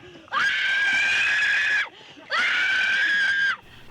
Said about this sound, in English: I swear her scream even seems layered with more screams.